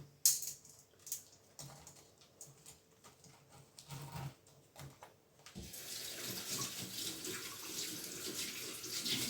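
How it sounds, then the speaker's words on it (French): Hands rinsed under a running kitchen tap while making a strawberry cake, a few faint clinks and handling sounds first, then a steady close rush of water filling the second half. "je me rince souvent les mains parce que j'aime pas avoir les mains comme ça"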